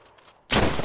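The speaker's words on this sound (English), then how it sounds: "Keep firing at the Germans" Sudden burst of massed rifle and machine-gun fire erupts loud and dense after a quieter start, battlefield gunfire in the WWI video game Battle of the Frontiers.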